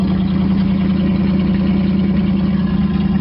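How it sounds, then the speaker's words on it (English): A Pontiac Trans Am engine idles fast on the choke while still cold, a steady, loud, even drone from close up with no variation across the short stretch. "Of course the choke's on, so it's going to be idling fast until it warms up."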